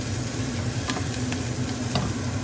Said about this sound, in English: You're going to keep frying until it's almost pretty burnt.